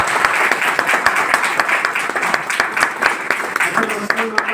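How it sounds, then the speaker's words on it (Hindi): Audience applause at a devotional gathering, a steady dense clapping from many hands filling the space, with a voice speaking over it toward the end. "तालियां बजा दो जी।"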